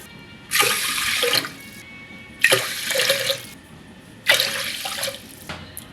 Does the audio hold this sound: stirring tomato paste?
no